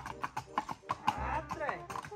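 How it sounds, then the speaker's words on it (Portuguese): A horse moving in a marcha gait gives steady, evenly spaced clip-clop hoofbeats close by, mixed with rustling and a brief low rumble partway through. "Cavalo é fantástico."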